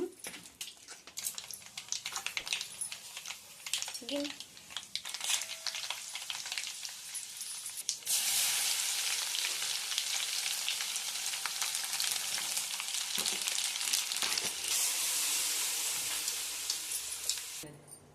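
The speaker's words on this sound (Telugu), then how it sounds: "కొంచెం పచ్చడి తాలింపు వేసుకుందాము" A tempering for Guntur-style gongura chutney fries in oil. A softer crackle with stirring swells into a loud, dense sizzle midway that holds to the end.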